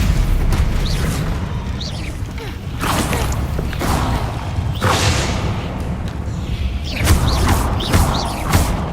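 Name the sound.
Stupefy stunning spell cast in Hogwarts Legacy video game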